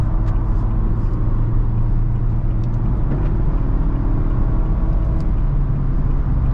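A 2022 Nissan Altima in sport mode drones from inside the cabin, a loud steady low engine and road rumble holding high revs with no speech over it.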